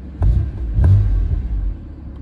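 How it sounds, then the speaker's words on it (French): A BMW M4 F82 with a Milltek exhaust, valves closed, starts up close by: a deep rumbling bark as it fires, then a second surge before it settles into a low, throbbing idle. "Donc là on va démarrer clapet fermé."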